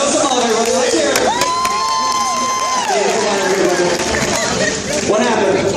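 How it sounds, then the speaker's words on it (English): Loud crowd applause and cheering for finalists at a live stunt show, with whoops and shouts, a long sustained whistle or cry riding over the noise, and a voice speaking through the din. "Ladies and gentlemen, big round of applause for your finalists."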